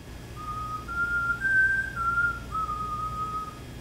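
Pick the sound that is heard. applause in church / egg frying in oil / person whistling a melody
person whistling a melody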